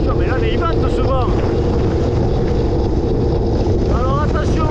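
Strong wind roars constantly and loudly across the microphone during a downhill descent on a course outside Cassel, with someone speaking French through the buffeting.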